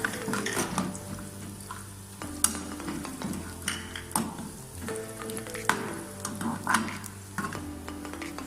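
Dry fruits roast in ghee for sheer khorma, a soft crackling fry under repeated metallic scrapes and clinks of a spoon stirring against the pan, fairly close and even throughout.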